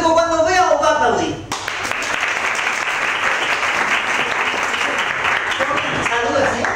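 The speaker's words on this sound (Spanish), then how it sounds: "El público cuando os vea os va a aplaudir." A stage audience breaks into applause after a brief stretch of talk, then dense, sustained clapping continues loud and even to the end.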